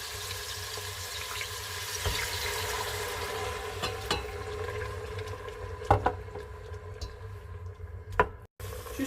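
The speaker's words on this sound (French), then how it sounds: "je vais arroser avec de l'eau un peu tiède dans laquelle j'ai fait tremper mes pestils de safran" Warm saffron-infused water poured over couscous in a pot, a soft continuous trickling and sizzling wash with a couple of small clinks near the end.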